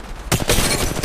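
Gunfire in the mobile battle royale Apex Legends Mobile erupts after a quieter start, a loud dense burst of rapid shots that continues steadily to the end.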